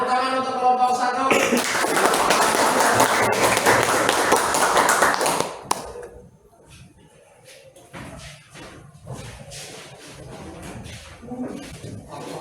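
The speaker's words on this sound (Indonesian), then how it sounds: "Baik, tepuk tangan untuk kelompok 1." Schoolchildren clap together for a group during an Indonesian classroom lesson, a dense burst of many hands lasting several seconds before stopping abruptly, followed by quieter room noise and scattered sounds.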